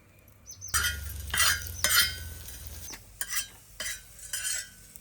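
Spices are stirred and roasted in a little oil in a pan over a wood-fired stove for a village-style crab curry, giving a low sizzle under repeated scraping and clinking strokes of a spoon, close and wordless.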